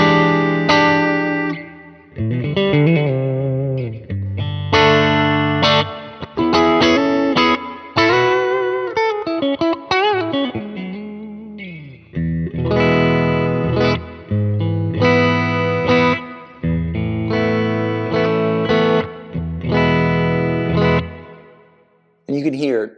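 A PRS SE NF3 electric guitar on its middle pickup setting plays strummed chords through effects with a chorus-like shimmer, loud and sustained, with steady rhythmic changes and brief gaps between phrases.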